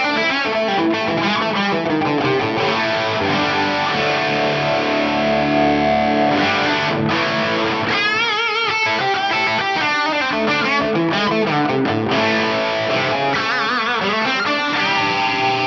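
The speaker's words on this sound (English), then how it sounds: "and now a dotted eighth note delay." An electric guitar plays through a Headrush Prime with boost, stereo pitch detune, reverb and a dotted eighth note delay. It sounds distorted and continuous, with echoing repeats that fill the phrases and no voices.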